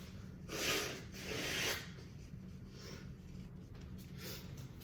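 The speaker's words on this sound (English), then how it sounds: "I have to blow my nose." A person blows their nose briefly, two soft breathy bursts close to the microphone, followed by quiet.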